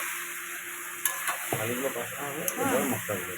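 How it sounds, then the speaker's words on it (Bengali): Boiled potatoes fry in a pan for aloo dum with a brief, soft sizzle and a few stirring scrapes, and a voice talks over the second half. "আলুগুলো কষানো মানে একটু ভাজা ভাজা হলে তারপরে মশলাটা দিচ্ছি।"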